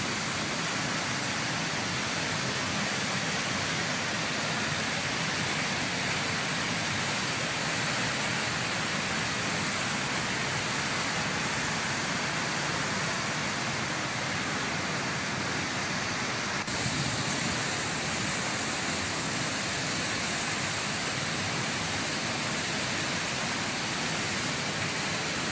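The Bhagirathi river at Gangotri rushes and splashes in a steady, loud, unbroken roar of white water, with no voices over it.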